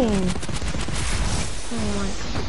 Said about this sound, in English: Stop shooting! Stop shooting! Okay, stop shooting!